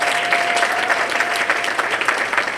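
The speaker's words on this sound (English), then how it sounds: "Let's give him a round of applause." A crowd at a school award ceremony for JLC and FBLA applauds steadily, many hands clapping in a continuous, moderately loud wash with no speech over it.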